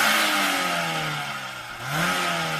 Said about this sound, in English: Let's start off by hearing what the standard car sounds like.